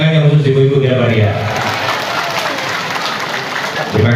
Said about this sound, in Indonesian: saya minta tepuk tangan yang khusus ibu-ibu kita beri ya